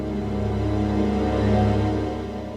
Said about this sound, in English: Then I tried it for fun with muted strings.